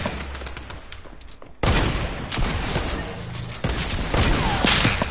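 Gunfire in a shooter video game, with a lighter stretch of shots giving way to heavy, loud volleys that rattle on in overlapping bursts, with no talking over them.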